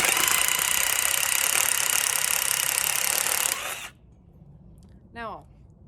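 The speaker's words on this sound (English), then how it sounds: "I'm gonna start drilling" A power drill boring a hole into wood for a candle centerpiece, running loud and steady for several seconds before cutting off abruptly, followed by a brief faint squeak in near silence.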